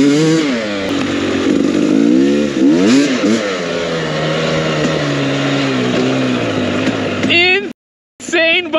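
A motorcycle engine revs loudly and steadily with rising and falling pitch sweeps, then cuts off sharply near the end before briefly returning. A voice may be present beneath the engine.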